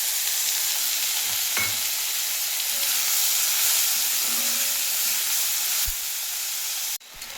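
Loud, steady sizzling of chicken sambar ingredients roasting in hot oil, with a couple of light utensil knocks before the sound cuts off abruptly.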